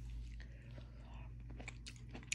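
Grapes being chewed up close, with soft, wet crunching bites and faint mouth sounds over a low background hum.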